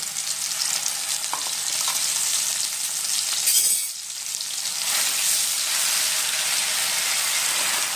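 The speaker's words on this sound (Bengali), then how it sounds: "আর এটা ততক্ষণ ভালো করে আমাদের কষিয়ে নিতে হবে যতক্ষণ না এর মধ্যে থেকে তেলটা চলে আসবে" A masala of onion, dried chilli and turmeric fries in oil for a Hyderabadi chicken curry, giving a steady close sizzle and crackle with stirring scrapes and a faint clink, no voices.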